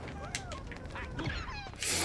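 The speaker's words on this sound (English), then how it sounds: "These chickens are back." Cartoonish chicken clucks and squawks from the Wario World video game, a few short calls over busy game music and effects, with a louder burst at the end.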